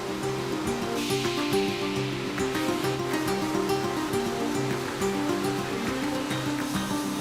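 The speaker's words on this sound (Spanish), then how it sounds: "se somete a una ducha de agua para eliminar la sal de recubrimiento." Steady, dense rushing spray of a water shower rinsing the salt coating off cured Pedroches hams after salting, continuous and close, with no talking.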